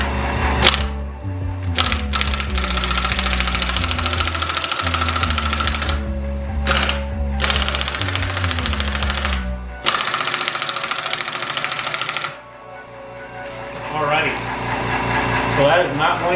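Air impact wrench hammering at a strut nut on a BMW E46 strut mount, loud rapid rattling bursts in several runs with brief pauses, close up, then fading to quieter workshop noise.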